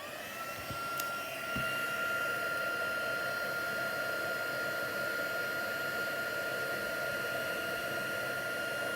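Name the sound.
heat tool blowing on embossing powder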